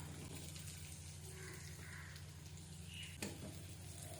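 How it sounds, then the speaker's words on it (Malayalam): Chicken pieces added to a hot masala for a chicken capsicum curry sizzle steadily in the pan, with soft scraping and stirring and one sharp clink near the end. "നമുക്ക് ഈ മസാലയിലോട്ട് ചിക്കൻ ചേർത്ത് കൊടുക്കാം."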